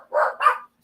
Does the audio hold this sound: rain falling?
no